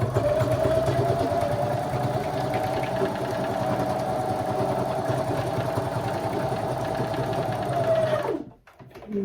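Sewing machine stitching a straight seam while altering jeans, a loud steady mechanical whir with rapid needle rhythm running continuously for about eight seconds before stopping abruptly.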